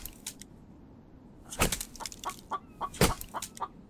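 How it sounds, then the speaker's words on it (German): A chicken in a survival video game clucks in short, moderately close bursts, with a few sharper squawks spread over several seconds and no talk. "Hallo Huhn, ich höre dich."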